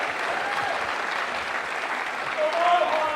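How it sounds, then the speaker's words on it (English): A pub crowd at a Politics & Pints event claps loudly and raucously, a dense, continuous round of applause with a few shouts and whoops rising near the end. "I want to hear a loud, raucous round of applause"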